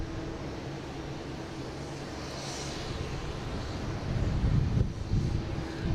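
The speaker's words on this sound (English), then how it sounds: "we have a JetBlue coming from Pittsburgh," A JetBlue Airbus A220 airliner arriving at Boston Logan from Pittsburgh, a distant broad engine rumble and wind-like roar swelling gently toward the end, no talk.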